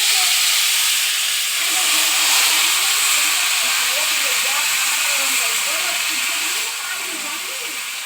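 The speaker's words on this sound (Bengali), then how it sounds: "এবার আমরা দিয়ে দেবো তেজপাতা লবঙ্গটা কিছুক্ষণ নাড়ানোর পরে এরপর আমরা দিয়ে দেবো মাংস।" A pan sizzles with a steady, loud hiss as bay leaf and cloves fry for a village-style mutton curry, while a voice talks over the cooking.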